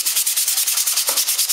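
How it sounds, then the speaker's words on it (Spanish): Fine 220-grit sandpaper worked over carved MDF for a Toyota Hilux model, giving quick, even back-and-forth scratching strokes at roughly ten per second, close and alone. "Después le paso una lija más suave"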